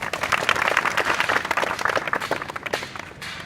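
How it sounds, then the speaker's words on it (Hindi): Audience applause for a student at an inter college in Uttar Pradesh, a dense burst of clapping from a crowd that fades slightly toward the end, with some talk beneath. "एक जोरदार ताली"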